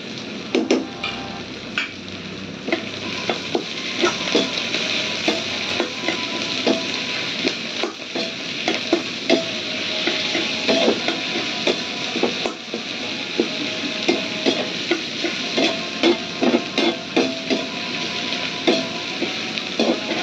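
Ginger, garlic and chili paste frying in a pan for chicken chilli, a steady broadband sizzle with frequent sharp crackles and spatula ticks throughout, close and fairly loud, no voices.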